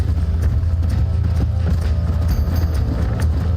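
A horse gallops in Red Dead Redemption with a steady, rapid clip-clop of hooves, loud and continuous over a low rumbling game soundscape, with no talk.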